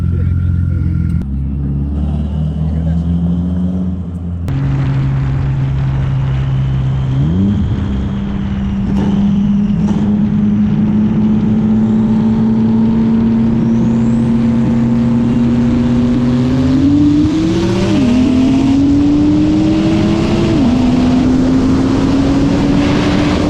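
An Infiniti Q50 and a big-turbo Subaru STI race, their engines roaring loud and close with a steady drone that climbs through rising revs and gear shifts. Only engine noise is heard, with no voices.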